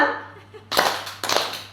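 A group of people in a school meeting clapping their hands together twice, two loud bursts of scattered claps about half a second apart, following a brief moment of speech.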